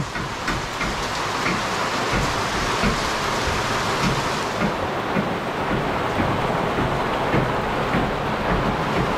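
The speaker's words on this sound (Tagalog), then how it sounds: "Basa na ng ulan." Rain falls steadily outdoors in a dense, even hiss that spatters on nearby surfaces and stays loud throughout, with no voices.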